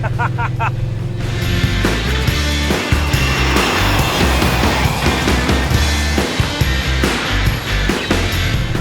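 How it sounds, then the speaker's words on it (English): A 1971 Holden Monaro GTS two-door with an 800-horsepower big block Chevy V8 rumbles loudly while driving, deep lumpy engine note with revs rising and falling up close, plus some rattles and road noise. "It's got that big bad engine up front, but it drives like a factory car."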